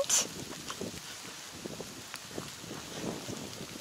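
Wind buffets a microphone aboard a sailboat at sea, a continuous rough rumble with gusty bursts and a faint hiss, and no one speaks.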